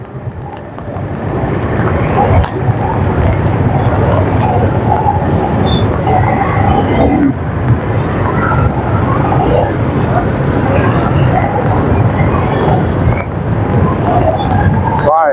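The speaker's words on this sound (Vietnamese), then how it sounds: "Rồi từ Cộng Hòa này nó mưa nó đông kẹt xe đông ghê luôn á" Heavy rain falls on Cộng Hòa street during a rush-hour traffic jam, a loud, steady wash of rain and engine rumble with no break across the whole stretch.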